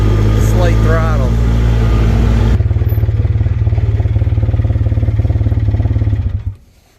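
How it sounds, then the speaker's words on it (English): Engine of a 2007 Polaris Ranger 700XP UTV that needs work, running close and loud and sputtering unevenly at slight throttle with a rapid pulsing chug, then dying away at the end; a voice is heard briefly at the start. "Bit of like sputtering when it's on slight throttle."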